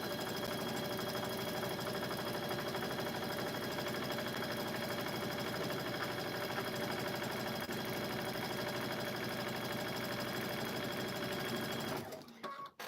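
A sewing machine runs a steady, continuous stitch along a quarter-inch quilting seam, a fast even mechanical whirr close to the mic for about twelve seconds before stopping abruptly.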